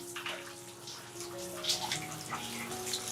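Tap water runs steadily into a basin while an elderly father's feet are washed at home, a continuous splashing wash with faint room noise.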